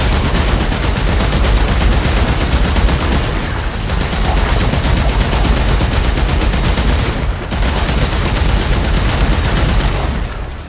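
Loud, sustained rapid-fire gunshots in Warframe, in long continuous bursts, with two brief pauses between them.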